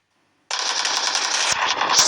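After a brief silence, a video game machine gun opens up in a loud, rapid, continuous burst that stays close and unbroken for over a second and a half.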